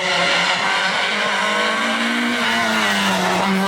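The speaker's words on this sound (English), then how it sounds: "as Jean takes the wheel of his famous car once again" A classic Renault 5 rally car drives hard, its engine note revving loud and close with a rising, sustained tone and a hint of tyre squeal, with no voices over it.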